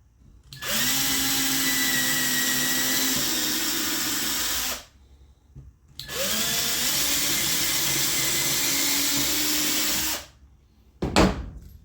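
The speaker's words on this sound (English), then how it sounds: "So now I'm going to drill a couple of pilot holes." A power drill bores pilot holes into scrap plywood in a shop, two sustained whining runs of about four seconds each separated by a pause, followed by a brief clunk at the end.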